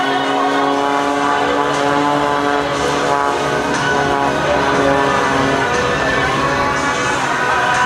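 Ken "K9" Appezzato's aerobatic propeller airplane drones steadily at the AirPower Over Hampton Roads 2008 airshow as it comes in to land, a continuous engine hum with faint crowd noise around it.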